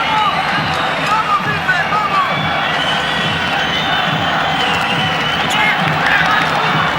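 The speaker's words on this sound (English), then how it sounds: "the Palau Sant Jordi, has been reverberating with the noise of a crowd really engrossed in what has turned out to be" A large indoor crowd fills the Palau Sant Jordi during a futsal World Cup final between Spain and Brazil, a steady loud roar with cheers and whoops swelling throughout, under a commentator's voice.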